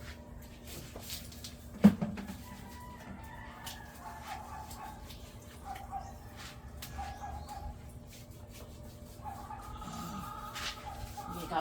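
A chicken clucks in short soft bursts at moderate distance in a quiet rural yard, with a sharp knock early on and a faint steady hum underneath.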